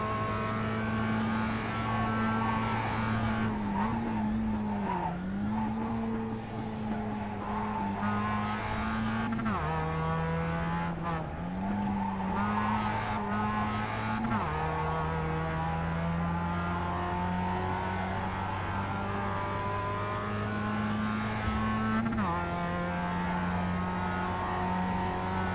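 Mazda MX5 race car engine in iRacing at Summit Point, a steady loud drone held at high revs with drops and climbs at several gear shifts, continuous and close with no talk.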